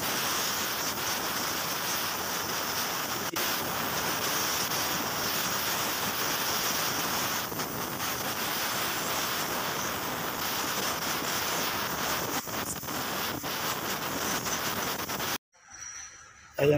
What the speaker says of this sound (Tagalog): Hanginan natin.